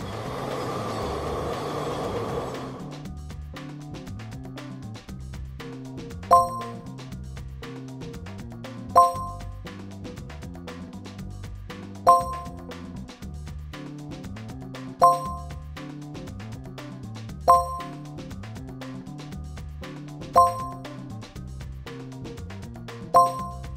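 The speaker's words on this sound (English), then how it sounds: "Circus train." A circus train, from a children's set of vehicle sounds, chugs in a steady rhythm with a bright bell ding repeating every few seconds. It follows a short burst of noise and plays alone with no talk.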